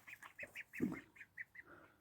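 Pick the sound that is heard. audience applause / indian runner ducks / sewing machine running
indian runner ducks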